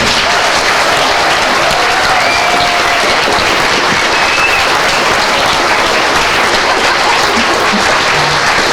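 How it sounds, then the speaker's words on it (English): A theatre audience at a follies show gives the performers a big round of applause, loud dense clapping that stays full and continuous from start to finish with a few scattered cheers. "give a huge round of applause for the performers that we've had here"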